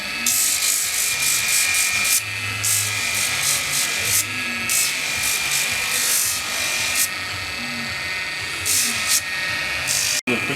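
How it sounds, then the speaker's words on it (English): Coarse P80 sandpaper is rubbed against a handmade brass ring in quick, rhythmic bursts of harsh rasping strokes, close and loud, pausing briefly between passes before a sharp knock at the end. "Okay. Sanding it."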